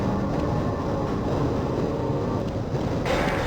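A steady, loud rumbling drone fills the scene as the tram ride in the Half-Life game rolls toward Sector C of the research facility, with a constant mechanical hum and no voices.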